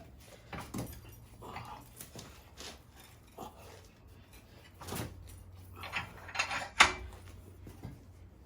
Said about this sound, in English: I'll put this in the vise